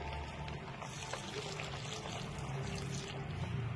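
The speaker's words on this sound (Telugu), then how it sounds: "ఇప్పుడు కొంచెం పాలు వేసుకుందామండి." Milk pours into a pan of sweet pongal made with jaggery, a steady liquid splash and trickle that holds evenly at close range for the whole stretch, with no talking over it.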